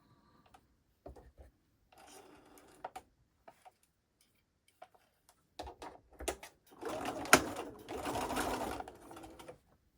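Sewing machine stitches fabric held with horizontal pins, starting with short quiet bursts and building into a louder, steady close run of rapid clatter near the end.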